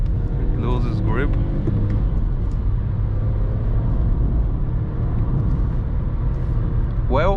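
A Skoda Fabia 1.0 MPI 60 HP engine revs hard under steady road rumble during spirited driving on curvy roads, droning continuously up close while a voice talks over it.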